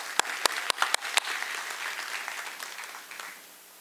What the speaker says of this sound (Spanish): Le pido un fuerte aplauso para recibir al doctor Diego.